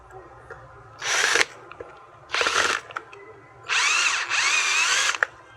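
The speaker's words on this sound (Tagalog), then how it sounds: "ang gagawin natin dito, papaladan natin ng tornilyo" Three loud bursts of a power drill driving a screw into a part of an electric fan whose swing has failed, the last burst long and split in two, with quiet clicks between.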